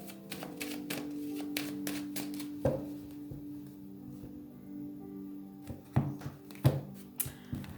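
An oracle deck is cut and shuffled by hand, giving a run of soft, quick card taps and riffling snaps close by, with a quiet pause in the middle and a few sharper slaps near the end.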